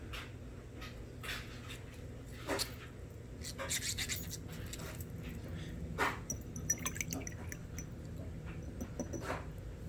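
Wet scrubbing and rubbing sounds with faint drips, a brush with alcohol working steadily inside the small chamber of a Pax 3 vaporizer, close and fairly quiet.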